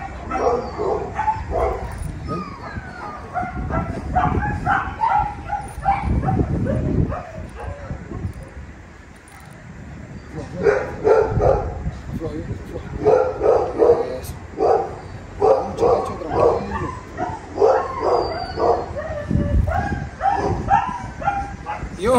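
Dogs barking and yipping in a series of sharp, close barks with some whimpering, recurring through the clip while someone talks over them.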